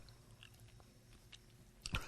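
Quiet, close crunching of Trader Joe's patio potato chips being bitten and chewed, a few soft crackles and then a sharper bite near the end, with no talking.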